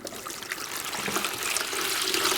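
Liquid potion is poured into a container in a primary maths measuring lesson, a steady close trickle and splash running continuously for a couple of seconds with no talk over it.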